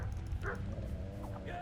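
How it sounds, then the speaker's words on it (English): A dog with a group of bandits in the medieval video game Kingdom Come: Deliverance gives a few short yips and barks, heard faintly beneath a low rumbling game soundscape. "Oh, they've got a dog."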